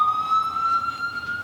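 Emergency vehicle siren passing outside, a sustained wailing tone that climbs slightly in pitch, heard at moderate loudness through the walls with no talking.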